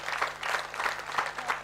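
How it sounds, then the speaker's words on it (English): Audience applause fills the room at a 30-year anniversary ceremony for a clinical research centre, a steady wash of clapping throughout. "Can we give them another round of applause?"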